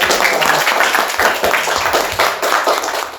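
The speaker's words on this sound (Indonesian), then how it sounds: "Tepuk tangan dulu buat kita." A small group claps at the close of a Saturday night talk show episode, loud close applause with dense, steady hand claps and a little background voice.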